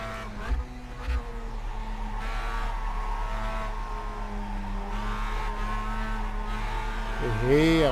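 A Mazda race car in iRacing at Tsukuba circuit, engine droning steadily with rising pitch as it accelerates, ending in a louder revving sweep; a voice talks briefly near the start.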